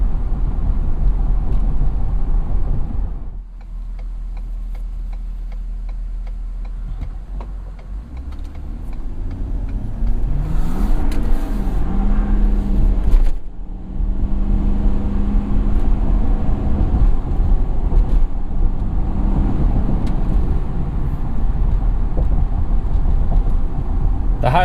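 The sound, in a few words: 2017 Ford F-250 Super Duty Power Stroke V8 diesel accelerating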